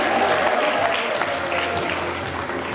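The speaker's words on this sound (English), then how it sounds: "Give her a round of applause." Audience at a women in agribusiness conference applauds as a speaker is welcomed, a steady, moderately loud wash of clapping throughout.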